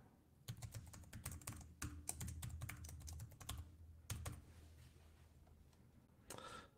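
Password typed on a computer keyboard: a quick burst of close, crisp key clicks and taps with short pauses, ending in a firmer keystroke, with no talk.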